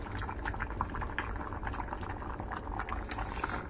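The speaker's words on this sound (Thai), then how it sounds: "รอให้เดือดสักพักให้ใบแมงลักหอม" Bamboo shoot curry with basil leaves bubbling at a steady boil in a pot, a continuous close gurgling and popping of liquid with no voices.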